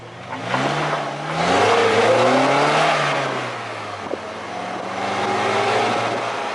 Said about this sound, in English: A lot of induction noise, a lot of engine noise.